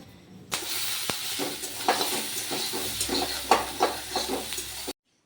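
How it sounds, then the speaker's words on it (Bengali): Masala papad crackles and sizzles as it fries in hot oil, a close, busy run of pops and hisses with faint stirring knocks that stops abruptly. "এদিকে আমি মশলা পাপড় ভাজছি"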